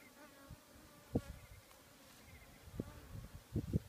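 Steady low insect buzzing from a swarm of honey bees at an opened Kenyan top bar beehive during inspection, with a few louder thumps and bumps close by.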